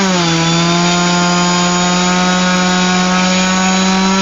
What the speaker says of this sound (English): I'm more doing a load test on the motor to make sure it's not going to burn up